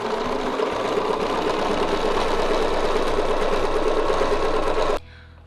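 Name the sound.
sewing machine stitching a circle on quilt block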